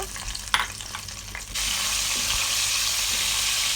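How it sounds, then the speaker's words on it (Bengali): Cardamom, bay leaf and chopped tomatoes hit hot fish oil for a Bengali-style katla fish curry, starting with a few clattering drops and clinks, then breaking into a loud, steady sizzle at close range. "ফোড়নে শুধু এলাচ আর তেজপাতা দিয়ে দিব সাথেই কেটে রাখা টমেটোগুলো দিয়ে দিব"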